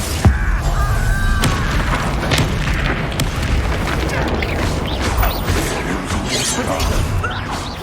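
Fire spell blasts and booming explosions in a Harry Potter video game, dense crashing bursts with sharp impacts layered over constant rumbling battle noise, loud and continuous.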